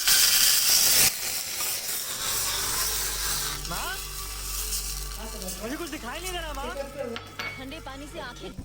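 Sugar water poured into a hot tempering for dhokla, a sharp sizzling hiss when it hits the pan, then bubbling and spoon stirring, with a voice talking over the cooking.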